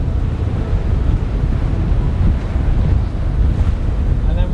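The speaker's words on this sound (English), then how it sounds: "You can see how chopped up all the water is from the wind" Strong wind gusts buffet the microphone over choppy sea water slapping around a trawler, a steady, loud broadband roar with no pauses.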